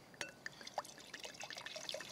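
White wine and white wine vinegar pour into a shallot reduction in a chateau kitchen, a thin, trickling stream with small splashes and glassy drips running steadily for a couple of seconds.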